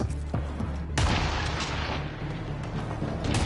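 Enemy gunfire in a video game, a steady barrage of loud shots and booms with sharp cracks near the start and around the one-second mark, continuing under the action.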